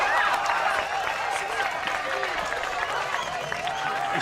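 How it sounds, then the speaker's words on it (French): Applause from an evening audience greeting a performer on stage, steady clapping mixed with crowd cheers and voices throughout the short stretch. "Un tonnerre d'applaudissements, messieurs, dames"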